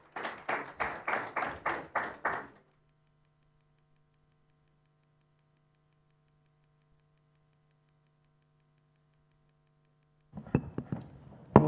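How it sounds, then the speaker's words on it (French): About seven loud, evenly spaced claps open a conference panel on energy and industry, followed by a long near-silence with a low electrical hum before a few more scattered claps and knocks. "démarrer ce panel avec les applaudissements de la salle"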